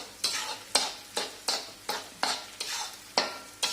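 Gum powder being stirred in a pan for sukhdi gives about a dozen brisk, regular scraping strokes of a spoon against the pan, close and crisp, with a faint sizzle beneath and no talking.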